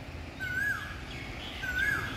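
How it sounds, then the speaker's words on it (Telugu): Two thin, whistled bird calls rise above a low, steady outdoor hum, one early and one near the end, at Jhadeswar Temple in Jharsuguda. "పక్షులు కిలకిల రాగాల మధ్యన"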